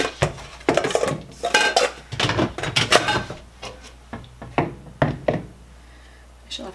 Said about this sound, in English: let me grab a mixing bowl